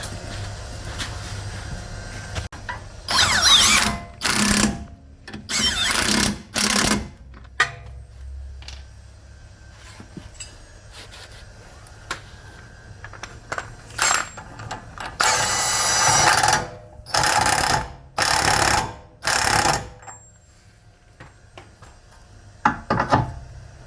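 A ratchet wrench loosening 19 mm bolts and the drive shaft axle nut on a 1997 Toyota RAV4 during an axle seal job, heard as loud bursts of rapid clicking separated by pauses and quieter clanks.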